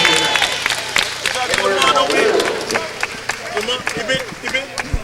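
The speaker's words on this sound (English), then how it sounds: "how about a well-deserved round of applause for both of these fine young men" Crowd clapping and cheering in a large hall at a boxing event, a dense spray of applause with scattered voices in the background.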